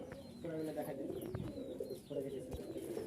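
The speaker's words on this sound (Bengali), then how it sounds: "এই যে দেখেন, এই হচ্ছে সব কবুতর আমাদের।" Pigeons at a crowded pigeon market in Dhaka coo in low, repeated bursts, close and steady, with a person talking over them.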